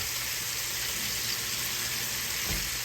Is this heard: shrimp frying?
yes